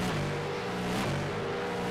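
A Supercar racing around Bathurst in a sim racing game, its engine roaring steadily at high revs with a brief surge midway, loud and close, no voices.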